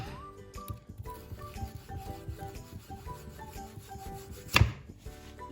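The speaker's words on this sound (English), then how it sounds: "I'm just going to cut a portion to fry up" A knife saws through a cooked block of tandoori chicken tikka shawarma meat, close rasping and scraping strokes with a sharper knock near the end, quiet overall and without talk.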